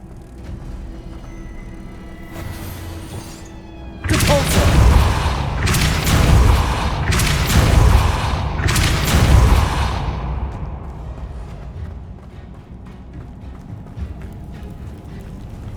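Confringo blasting spell in Hogwarts Legacy: three or four heavy, booming explosions in close succession, loud and near, then a fading rumble with scattered small crackles.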